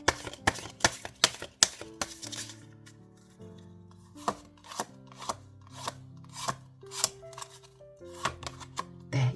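Oracle cards shuffled and handled by hand, a run of quick crisp slaps and rustles repeating in uneven bursts, close and alone under a soft musical background.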